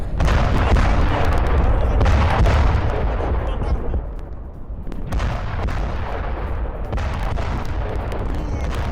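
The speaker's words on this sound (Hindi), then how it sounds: "अपाचे की उड़ान के बीच स्ट्रेटेजिक ठिकानों में धमाके हुए" Explosions from an Apache attack helicopter strike on Caracas come as heavy, rumbling, broadband blasts, loud and dense at first, easing briefly, then resuming with repeated bursts.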